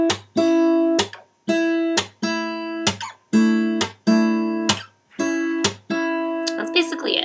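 Acoustic guitar strums the verse chords of a song, a series of bright strummed chords with brief gaps between changes.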